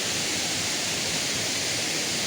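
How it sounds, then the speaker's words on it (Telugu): Steady, dense rush of Kothapalli waterfall, a continuous broadband roar heard from nearby without breaks or voices. "ఆ కింద వాటర్ ఫాల్స్ కనబడుతుంది చూసారా"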